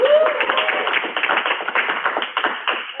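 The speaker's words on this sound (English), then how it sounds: "You'll do a better job clapping than that?" An audience at a Toastmasters-style meeting claps steadily and fairly close for about three seconds, a dense patter of many hands with no talk over it.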